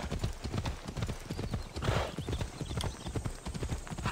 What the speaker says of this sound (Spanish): si presiono Y, el caballo va automáticamente a el objetivo que le has planteado